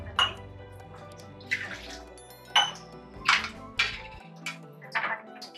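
Water is poured into a pot of thick dal with tamarind while cooking dal gosht. The pouring and splashing come in several short bursts, mixed with pot and utensil clatter, and a voice can be heard in places.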